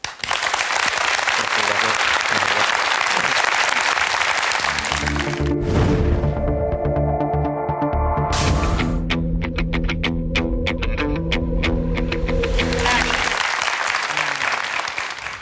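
A large audience at a talk concert claps loudly, breaks off for several seconds of steady tonal sound, then bursts into full applause again.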